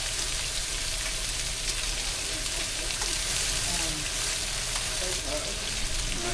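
Fish searing in a hot pan gives a steady, close, continuous sizzle and crackle that holds evenly throughout with no talk over it.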